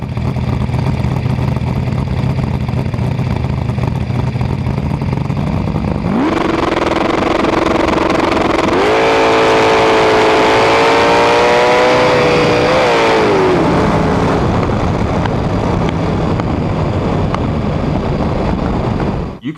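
A loud drag racing car engine roars continuously, climbing sharply in pitch as it accelerates hard down the track, then fading back into a rumbling crowd-like din.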